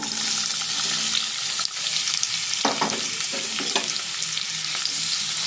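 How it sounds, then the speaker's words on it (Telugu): Chopped onion pieces dropped into hot oil for an egg curry, a steady bright sizzle with a few clattering stirs and scrapes near the middle. "ఇప్పుడు నూనె మరిగిపోయింది మనం ఉల్లిపాయ ముక్కలు వేసేసుకుందామండి"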